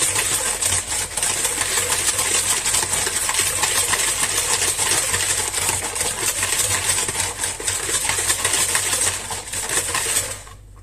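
Batter of sugar and other ingredients being mixed into a smooth paste, a continuous dense rattling, scraping whir of mixing that runs steadily for about ten seconds, then stops abruptly.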